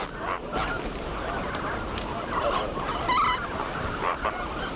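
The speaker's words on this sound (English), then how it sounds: "When all the flamingos have been enclosed, a few people go inside the pen and start taking out individual birds." Flamingos crowded into a pen in the Ebro Delta give a continuous noisy clamour of honking, gabbling calls, dense and steady at moderate distance, with sharper individual honks rising out of the flock.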